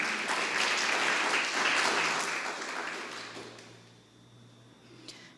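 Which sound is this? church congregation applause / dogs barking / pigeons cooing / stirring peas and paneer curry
church congregation applause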